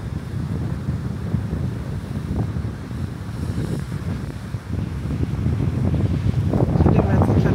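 Steady roar of surf and wind across a beach in Bundala National Park, Sri Lanka, with waves washing in continuously and swelling slightly louder toward the end.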